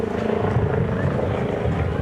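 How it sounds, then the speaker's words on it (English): A helicopter flying overhead above an elk camp, a loud steady rotor thump and engine drone filling the whole moment with little change, with faint voices underneath. "we got a helicopter coming here."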